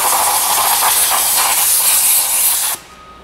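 Brake cleaner safety solvent sprays into a seal bore as a loud, close, continuous hiss that stops abruptly near the end, leaving a faint background.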